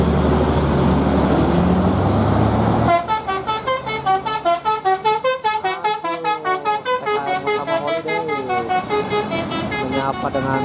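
Bus telolet horn honking a greeting on a steep mountain road: a loud rapid musical sequence of pulsing multi-tone horn notes after a stretch of road rumble and voices, close and dominant.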